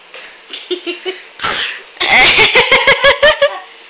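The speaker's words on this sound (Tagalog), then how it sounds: "Ay, ubo naman, ubo naman." A person coughs several times close by: a few small coughs, then a harsh burst, followed by a rapid series of choppy coughing fits.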